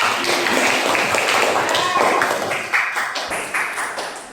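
Students in a high school arts class clap together, a dense, fairly loud patter of many hands that thins toward the end into a few sharper separate claps, with voices murmuring underneath.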